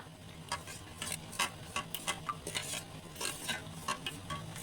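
A spoon stirring millet malt drink with dry fruits, quick soft scrapes and light clinks in an uneven rhythm, close and fairly quiet.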